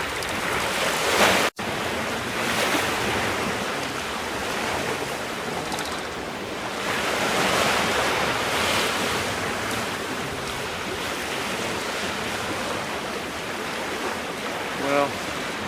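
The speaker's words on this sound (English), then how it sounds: "The seas are pretty humped up just here." Choppy sea waves slosh and surge around a small trailer sailer boat on open water, a loud continuous rushing wash with heavy wind buffeting the microphone and occasional splashes.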